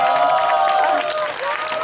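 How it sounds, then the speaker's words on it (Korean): A crowd at an outdoor anti-nuclear march and rally in Gyeongju applauds a children's singing group, a loud, brief burst of clapping mixed with a ringing tone and faint cheers. "다시 한번 큰 박수 좀 부탁드리고요"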